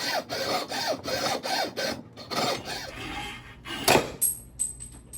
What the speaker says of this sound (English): that is how to properly use a hacksaw